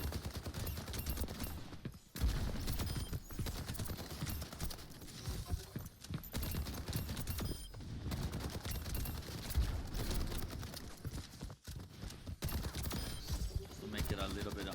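Steady rattling gunfire from a shooter video game, played fast and strafing, with continuous rapid shots and a few brief gaps, a player talking under the shooting.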